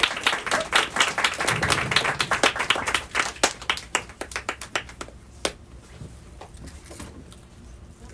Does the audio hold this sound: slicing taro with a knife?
no